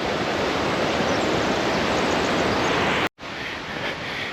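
A boisterous river rushes along the Wonderland Trail on Mount Rainier, a loud, dense, steady roar of churning water close by, briefly cut off before resuming.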